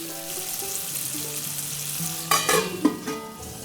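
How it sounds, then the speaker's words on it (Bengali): Potato pieces fry with a little salt in oil over low heat in a Bengali kitchen, giving a soft sizzle under quiet music, with a couple of sharper stirring clatters near the end. "কম আঁচে ঢাকা দিয়ে ভাজবে যতক্ষণ না আলুগুলো আধ সেদ্ধ হয়"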